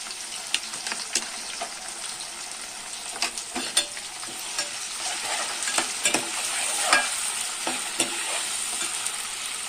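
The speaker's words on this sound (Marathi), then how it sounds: "कांदा लाल झालेला आहे, टोमॅटो टाकूया, अद्रक लसणाची पेस्ट टाकूया" Onion, tomato and ginger-garlic paste with whole spices sizzling in hot oil in a pan, a steady close crackle broken by scattered sharper pops and stirring scrapes, with no voice over it.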